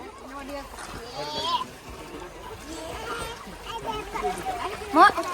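Children splash water by hand in a pond, with irregular watery splatters rising and falling over a few seconds beneath steady chatter from children and adults.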